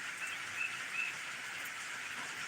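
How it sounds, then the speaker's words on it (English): Gentle early-morning rain falling at a farm in Roanoke, Alabama, a steady soft hiss of drizzle that stays even and low throughout, with faint bird chirps now and then. "Nice gentle rain for here"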